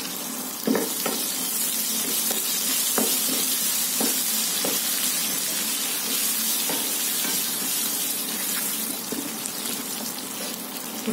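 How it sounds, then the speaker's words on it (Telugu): Dried red chillies, curry leaves and coriander frying as a tempering for a green chilli, tomato and cabbage chutney, a steady loud sizzle with occasional stirring clicks and scrapes throughout. "అండ్ ఎండుమిర్చి వేస్తున్నాను, కరివేపాకు, కొత్తిమీర కూడా వేస్తున్నాను"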